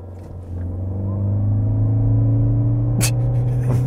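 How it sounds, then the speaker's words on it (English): A 2020 Toyota Prius Prime pulls away under full power, its engine drone rising gradually and steadily in pitch, close and fairly loud, with a few brief knocks near the end. "rev it for me. Full power, launch control."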